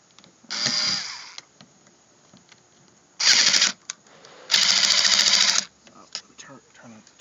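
A power screwdriver driving small screws on a Mini Cooper convertible top whirs in three short bursts, close by, with faint clicks and handling sounds between them.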